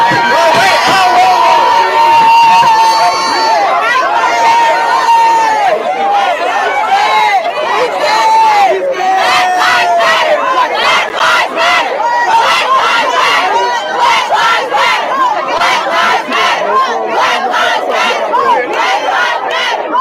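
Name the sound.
large crowd gathering and shouting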